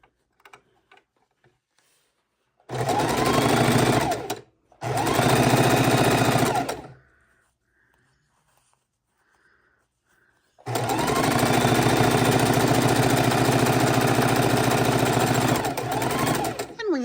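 A sewing machine stitches the seams of a beginner ManCave quilt block in three loud, steady bursts, two short runs early on and a long continuous run at the end, with quiet pauses between.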